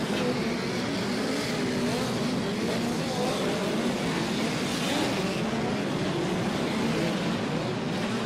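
Midget race cars roar around the Port City Raceway dirt track during a POWRi National and West Midget League race, a continuous loud engine drone with shifting pitch as cars pass, steady throughout with no talk.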